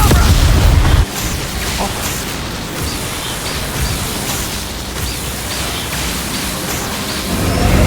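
The Avada Kedavra killing curse cast in Hogwarts Legacy: a loud booming burst at the start, then a dense, rushing magical roar that swells again near the end.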